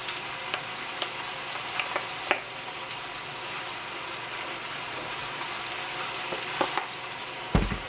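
Seasoned ground meat with taco seasoning sizzles steadily in a pan while being stirred together, with scattered scraping clicks from the spoon and a louder clatter near the end.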